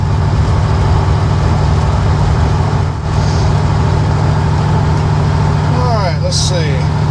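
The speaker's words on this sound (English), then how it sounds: "we got her down in 5th gear, running 50 miles an hour" A C3 Corvette cruising in 5th gear at 50 mph on a local road, a loud, steady low engine drone and road rumble inside the cabin, with a brief dip and a voice near the end.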